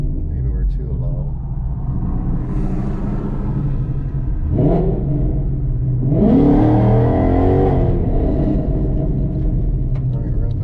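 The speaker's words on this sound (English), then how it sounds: "What we're going to do is heat our tires on this side" Ford Mustang Boss 302 revving to heat its tires, a steady engine rumble that rises into two sharp rev climbs, loud and close, with a sweeping whine on the second.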